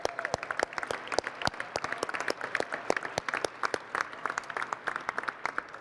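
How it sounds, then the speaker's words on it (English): An audience at the 2018 North American International Auto Show charity preview opening breaks into sustained applause, a dense, steady patter of many hands clapping in a large hall that carries on throughout. "Let's give him a round of applause."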